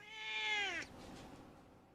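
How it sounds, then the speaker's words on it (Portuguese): A cat lets out a single clear, drawn-out meow lasting under a second, close and distinct, followed by quiet. "Uma das coisas que eles menos fazem é miar."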